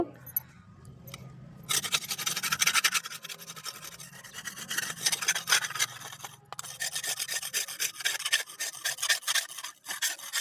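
Metal garden soil-loosening tool being scraped clean, a steady rough rasping that starts faint, then turns loud and continuous with short gaps, close up and alone.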